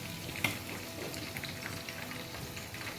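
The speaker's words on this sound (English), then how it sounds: "I'll be frying the tatashe sauce that I've already ground." Ground tatashe pepper sauce frying for stew, a steady close sizzle with crackling spits and an occasional stir or clink of a utensil.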